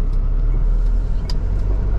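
An industrial waste truck drives along a road, its engine and tyre rumble steady and loud throughout, with a brief hiss partway through.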